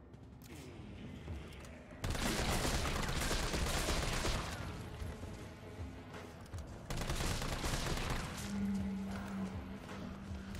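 Gunfire erupts in Resident Evil 3 Remake in two long bursts of rapid shots, separated by a lull of quieter background. The volume is fairly low overall.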